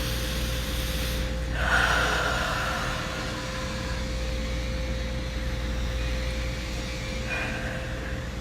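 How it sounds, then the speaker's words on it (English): Deep breaths drawn into the belly, with a couple of slow, airy inhales and exhales over a steady low background hum. "Let's take a couple of big breaths to your belly."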